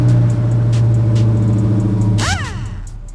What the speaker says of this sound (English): Go ahead and start the car with the new computer before we take anything apart.